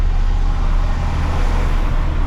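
A truck's engine idles with no throttle as it waits in line at a muddy landfill, a steady low rumble with broadband road-like noise continuing evenly throughout.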